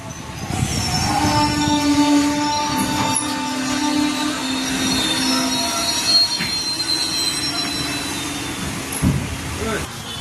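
A train entering Purulia station rumbles along with metallic wheels squealing in long, high tones as it slows, a continuous roar with voices faintly audible beneath it.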